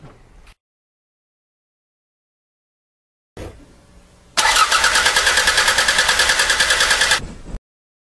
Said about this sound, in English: let's go ahead and listen to a normal engine starter sound, and you'll hear that it's really nice and even.